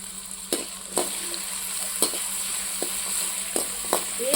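Capsicum and green chillies fry in oil for Maggi masala, a steady soft sizzle punctuated by repeated sharp scrapes and taps of a spatula stirring the pan, with no talk.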